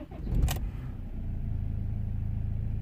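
A BMW X3 2.0d diesel, glow plugs warmed in winter, cranks briefly and catches, settling into a steady low idle rumble close by after a short burst of noise at the start.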